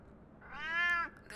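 A tomcat gives a single close, whining meow rising and falling over about half a second, alone against faint room noise.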